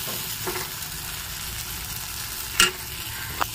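Pieces of hilsa fish sizzle in oil in a wok, a steady close hiss broken by a few sharp scrapes and clinks as they are turned.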